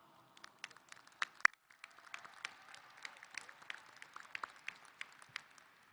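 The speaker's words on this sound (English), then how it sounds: "So let's give ourselves a round of applause." Graduates at an Arlington Martin High School graduation applaud themselves, with faint, sparse, scattered claps heard from a distance, irregular rather than a full roar.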